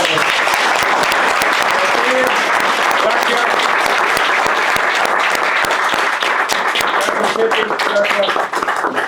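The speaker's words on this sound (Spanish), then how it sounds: "Fuerte el aplauso." Loud, dense applause from a conference audience at a talk on local government and technology. The clapping forms a steady roar throughout, with a voice faintly audible beneath it.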